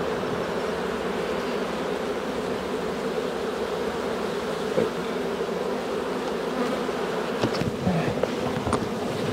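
A dense mass of honeybees hums steadily from an open hive packed with frames, a continuous close drone with a few louder passing buzzes near the end.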